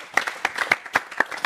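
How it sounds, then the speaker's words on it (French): A small audience claps for the artist Célio in a brief, sparse burst. Separate handclaps land a fraction of a second apart with no voices. "Applaudissements encore pour Célio."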